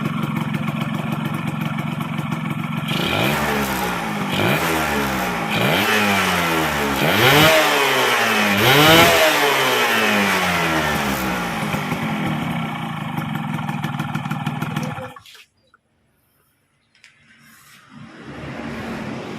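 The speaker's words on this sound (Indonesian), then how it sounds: "Nah ini kan kita coba gebet lagi." Yamaha F1ZR two-stroke motorcycle fitted with a PE24 carburetor, revved hard several times in rising and falling bursts over a loud idle close by, then cut off into near silence before idling again.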